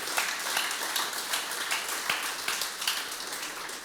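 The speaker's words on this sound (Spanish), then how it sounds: "dale palmas al Rey, por favor, apláudele fuerte" A church congregation claps and applauds during a worship service, a dense, steady patter of many hands filling the space, moderately loud and without talking.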